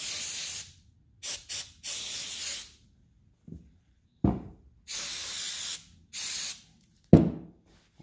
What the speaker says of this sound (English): I'm just going to be using this spray right here to clean off any of this additional residue